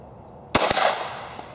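Two sharp, loud .40 caliber Glock 23 pistol shots ring out at an outdoor range in quick succession, each cracking close with a decaying echo, followed by a faint distant pop.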